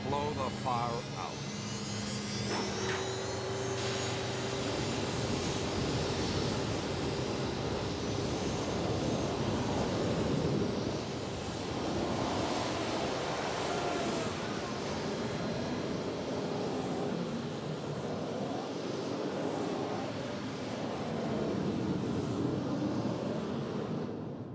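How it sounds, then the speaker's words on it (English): A loud, steady jet engine roar that builds and holds as jet engines blow out a Kuwaiti oil well fire, with a voice talking over it throughout. "Then they just open the throttles and blow the fire out."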